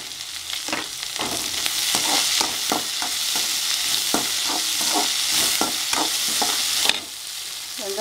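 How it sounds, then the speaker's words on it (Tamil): Mustard seeds and urad dal crackling and popping in hot oil while being stirred for a snake gourd poriyal, a loud, steady sizzle dotted with sharp pops, with no talking. "கடுகு நல்லா வந்துட்டுங்க, உளுந்து சவக்கட்டும்."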